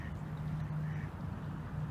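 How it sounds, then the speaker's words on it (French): A mallard duck quacks outdoors on a cold November day in an urban park, faint repeated calls over low background noise. "Le canard colvert qui va sûrement passer l'hiver ici."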